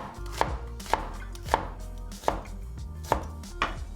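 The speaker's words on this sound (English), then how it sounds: "We'll chop our ginger into thin slices." A knife chops ginger into thin slices on a cutting board, giving six distinct sharp thuds at a slow, fairly even pace, close and clear, with no talking.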